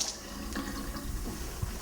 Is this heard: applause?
no